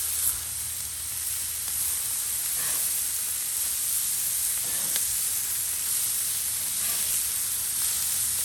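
Thin smash burger patties sizzle steadily on a hot grill while being flipped, a constant bright hiss with a few soft scrapes and taps, close and even throughout.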